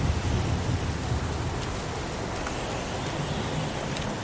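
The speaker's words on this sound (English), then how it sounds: "It's pouring rain." Steady pouring rain hisses as a dense, even wash of noise, constant throughout with no voices.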